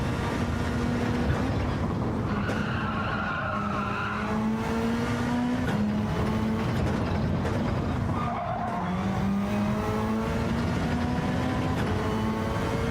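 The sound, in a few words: Formula race cars driving in Gran Turismo 7 video game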